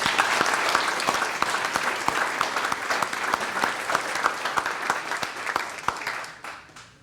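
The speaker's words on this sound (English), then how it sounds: "Let's give another round of applause." Applause from an audience at a chamber of commerce event, loud and close with sharp individual claps standing out from the crowd, sustained for several seconds before tapering off at the end.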